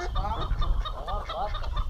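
Honking, nasal duck calls in a quick series, close by on a farm, with a low rumble of background noise underneath.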